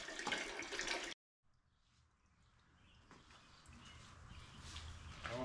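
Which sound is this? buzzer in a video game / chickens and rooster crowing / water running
water running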